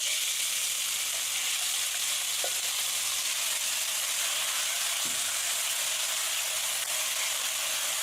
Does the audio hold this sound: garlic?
yes